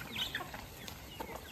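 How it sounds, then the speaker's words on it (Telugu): Chickens clucking softly while pecking at rice on a farm, faint scattered calls and clucks over a low outdoor background. "కోళ్ళు కూడా అట్లా అన్నం తింటున్నాయి"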